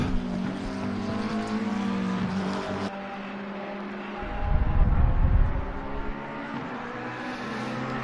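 The number 7 McLaren race car screams through a Nürburgring circuit in a racing video game, its engine note rising and falling with gear changes, plus a low rumbling surge midway.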